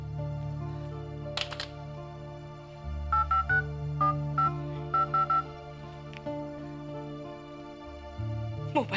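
Mobile phone keypad tones sound in short spaced bursts while a call to an absent party fails to connect, heard over soft background music and faint room tone.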